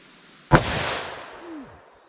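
A single sharp report from a .357 Magnum revolver firing a 110 grain XTP handload, loud and close, with a short decaying echo trailing off and no voices.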